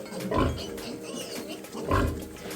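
Pigs grunt and snort close by, with two louder grunting bursts standing out against lower, continuous oinking.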